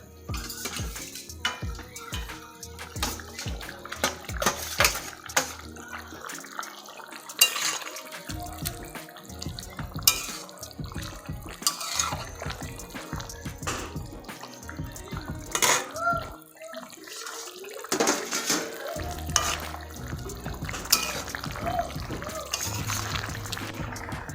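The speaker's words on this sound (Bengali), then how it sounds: "ঝোলটি প্রায় ফুটে এসেছে। এখন আমি এখানে মাছগুলো দিয়ে দিব।" Kitchen clatter and liquid sounds as fish goes into a simmering vegetable fish curry in a pot: irregular clinks of utensils against the pot, splashes and steady bubbling, moderately close, with no talk.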